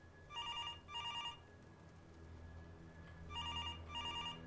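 Old-style telephone bell ringing in a spooky horror video game, two double-burst rings, a pause of low droning ambience, then two more rings, fairly loud and clear with no talking.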